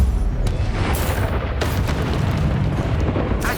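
In the Hogwarts Legacy video game, the Incendio fire spell erupts as a loud, continuous fiery roar, with several sharper bursts and whooshes layered through it.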